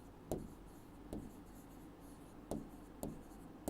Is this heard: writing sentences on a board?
yes